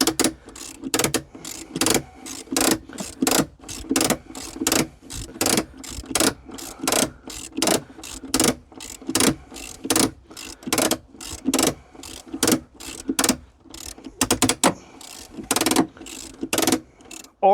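Ratchet wrench clicking in quick repeated bursts while loosening the bolt on a 12-volt battery hold-down bracket in a 2013–2018 Ford C-Max, close and loud with brief pauses between strokes.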